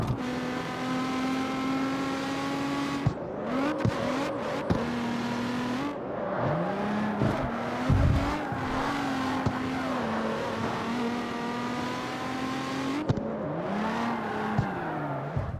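A Nissan Z35 revs hard in the CarX Street racing game, its engine note climbing and dropping repeatedly through gear changes, loud and close, with brief shifts and throttle lifts over about fifteen seconds and no talk.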